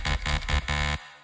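A buzzy, harmonically rich electro house synth bass patch on normal settings plays four choppy pulses, the last one held, then it cuts off abruptly. Loud and close, alone, with no voices.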